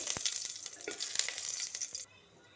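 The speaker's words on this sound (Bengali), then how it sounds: "পাঁচফোড়ন ভাজা ভাজা হলে" Panch phoron spices with a green chilli frying in hot mustard oil, a close, bright crackling sizzle with quick popping spits throughout, then abruptly softening near the end.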